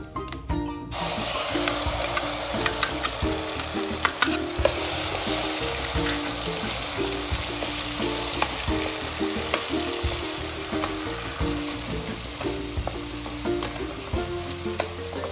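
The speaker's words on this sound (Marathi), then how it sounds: "आता आपण ह्यामध्ये जो मिक्सर मध्ये मसाला केलेला आहे तो टाकून घेऊया" Ground masala paste made from coconut, onion, ginger and garlic frying in hot oil with cloves for a chicken curry, a loud continuous sizzle and hiss with frequent scraping stirs, no talking.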